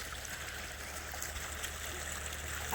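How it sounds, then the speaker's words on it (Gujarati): Water runs steadily into a farm irrigation basin outdoors, making a constant rushing, stream-like flow at moderate loudness, alone and unbroken throughout. "થાળામાં પાણી ચાલુ છે"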